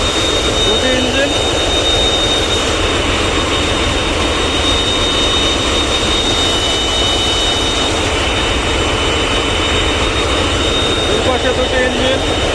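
Two engines thunder nonstop in the engine room of the passenger launch Miraj 6, a loud, dense, unbroken mechanical roar with a steady whine on top and no pauses.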